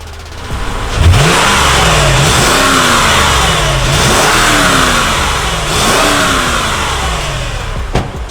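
A Lexus GX460 V8 with an upgraded exhaust revs loudly and close-up in several repeated blips. Each rev rises and falls over a steady idle, with no talking.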